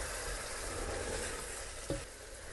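Eggplant simmering in a pan on a medium stove for spicy baingan salan, a steady soft sizzle with a brief scrape of stirring near the end, no voices.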